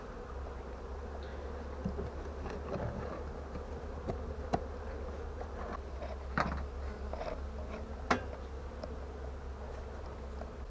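Honeybees buzzing around a hive at an apiary, a steady low drone with occasional louder passes as individual bees fly close by.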